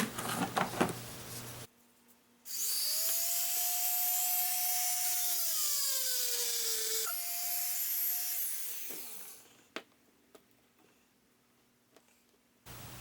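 A grinder shapes metal on a chainsaw handle being repaired, a loud high whine that holds for about seven seconds with a falling, shifting pitch as the tool bites. Quiet clicks and handling noise sit before and after.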